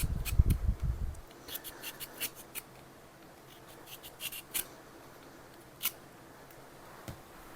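Lemon being peeled with a handheld peeler, a series of short, quiet scraping strokes with soft rubbing and light clicks between them, close up, with a low thump at the start.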